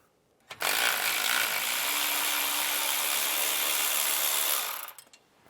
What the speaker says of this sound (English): So we'll take a 13 millimeter socket and remove this bolt.